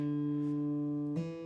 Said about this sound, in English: I'm going to play the open string, and then I'm going to hammer it hard